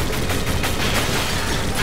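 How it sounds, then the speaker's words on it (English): Gunfire erupts in the Resident Evil 5 shooter: a dense, loud burst of rapid shots and impacts over a noisy, close-up wash of sound. "Cover shooting."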